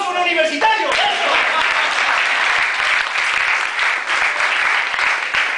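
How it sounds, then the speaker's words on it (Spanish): A crowd breaks into dense, loud applause for a university student, sustained clapping filling several seconds with cheering voices mixed in at the start. "señores, un aplauso a un universitario"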